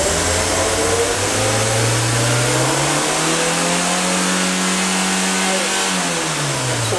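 A Fiat engine, from a Palio, Siena or Strada being repaired for an oil leak, revs up steadily to about 5000 rpm, holds loud and close, then is released and drops back toward idle.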